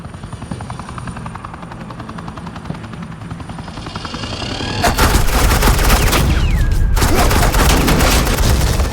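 A helicopter's steady thumping rotor hum gives way to a loud, sustained burst of rapid suppressing gunfire from the chopper in a Batman game, the fire cutting out briefly before resuming.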